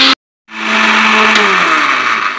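Electric blender grinds mint, spices and lemon juice for pani puri water, starting after a brief silence and running as a loud, steady whirring roar with a shifting motor whine until the end.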